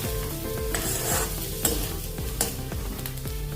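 Pahadi-style potato chunks roasting on low gas in an iron kadhai, a continuous close sizzle broken by several sharp metallic scrapes and clinks of a stirring spoon, no voices.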